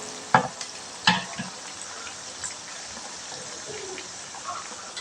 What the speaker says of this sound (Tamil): அப்புறம் வெங்காயம், பெரிய வெங்காயம் போட்டு நல்லா கிண்டணும்.